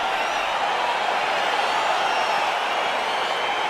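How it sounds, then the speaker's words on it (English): A virtual arena crowd in the UFC 4 video game roars steadily as a featherweight fight gets underway. The noise holds as an even, unbroken wash at fairly high level, with no voices over it. "crowd getting excited as this fight gets underway"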